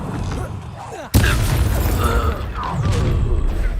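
A Confringo fire spell explodes in Hogwarts Legacy during a duel, a sharp loud blast about a second in followed by a rumbling, crackling tail amid battle effects and shouted voices.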